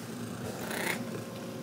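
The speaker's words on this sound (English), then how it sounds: "Bunny Joe is a very old cat" An old cat purrs close by, a soft continuous rumbling hum that holds steady at low volume throughout.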